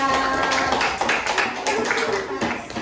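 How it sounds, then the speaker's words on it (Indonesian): A fifth-grade class claps hands together in a classroom, a brisk patter of many overlapping claps heard up close, mixed with children's voices. "Ya, tepuk tangan untuk kita semuanya."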